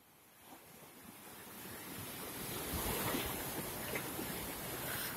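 Ocean surf at Lhok Geulumpang beach in Calang, Aceh Jaya, rolls on as a steady broadband wash with wind rumble, swelling louder midway and staying fairly distant and soft, with no voices.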